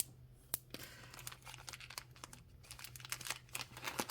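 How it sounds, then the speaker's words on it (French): Pages of a ring binder holding colouring supplies are turned, giving papery crinkles and crisp flicks with sharp snaps, continuing close and steady for about four seconds with no talk. "on va voir ce que ça donne en tournant les pages du classeur"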